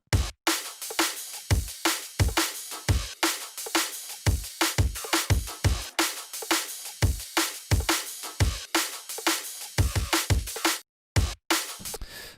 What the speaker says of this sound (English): Okay, so let's start with the drums. So let's just solo those.